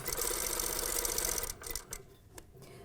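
Sewing machine back-tacking and then stitching along a curve on a fused hem facing at a 1/4 inch seam allowance, a steady close mechanical whir for about a second and a half that stops and leaves brief clicks and handling noise.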